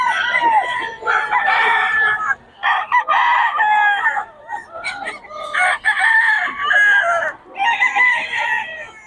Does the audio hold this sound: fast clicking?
no